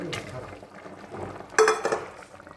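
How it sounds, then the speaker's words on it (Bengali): Fried eggplant pieces go into a pan of frying fish, with utensil scrapes, light clatter and a soft sizzle close by, ending in a short sharper burst of clinks and stirring. "মাছটা দিয়ে পুরোপুরি জাল হয়ে গেছে, এখন এই বেগুনগুলো দিয়ে দেবো।"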